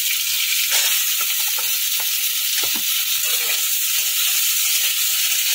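Ridge gourd and potato pieces sizzle and fry steadily in a hot pan with oil, a loud continuous hiss with faint stirring scrapes underneath, no voices.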